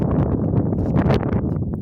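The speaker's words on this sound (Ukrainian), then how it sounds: "Бачите, який вітер." Gusty spring wind buffets the microphone outdoors at a beehive, a loud rumbling whoosh rising and falling over a couple of seconds.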